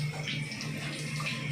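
Tap water runs steadily and close into a sink as dishes or hands are rinsed, a continuous splashing rush with no speech.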